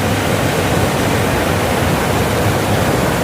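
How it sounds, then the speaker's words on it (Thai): Loud, steady rush of water flowing strongly over a weir, a dense broadband roar that continues without pause from start to finish. "น้ำไหลแรงมากครับน่ากลัวมาก"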